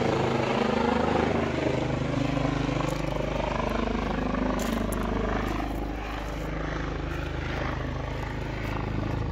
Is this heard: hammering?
no